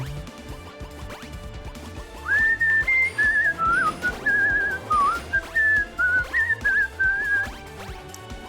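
Someone whistling a wavering tune along with light game music while playing Lunistice, steady phrases carrying over the soundtrack from about two seconds on.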